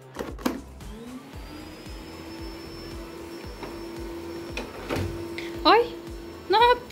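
A household vacuum cleaner runs steadily with a sustained motor whine, close by and moderately loud, while a child's and an adult's voices talk over it throughout.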